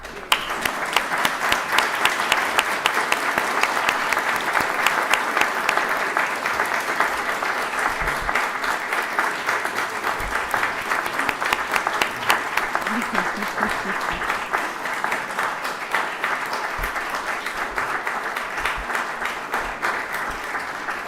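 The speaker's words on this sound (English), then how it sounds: "That's the longest applause so far." A large audience in a hall at a diploma graduation ceremony claps for a long, sustained stretch, dense and even throughout.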